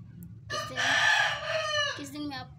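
A pet parrot mimics a rooster, giving one close, rising and falling crow that lasts about a second and a half over a faint background hum.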